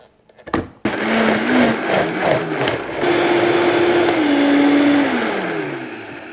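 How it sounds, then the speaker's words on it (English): A Vitamix blender whirs loudly, grinding korma paste after a brief clatter of loading; the motor note holds steady and shifts slightly in pitch as the thick paste turns over, continuing alone without talk. "now we're going to blend this into a smooth paste"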